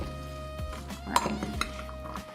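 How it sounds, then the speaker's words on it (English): A spoon clinks and scrapes in a bowl as sweet potato filling is mixed, giving a few sharp taps amid quiet stirring, with no talk. "I'm gonna use this spoon, and then you'll just mix everything together"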